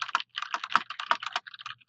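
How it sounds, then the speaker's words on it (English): Close, crisp clicking of computer keyboard keys in quick irregular bursts, a steady run of keystrokes with tiny pauses and no voices over it. "I'm just typing and listening, typing and listening."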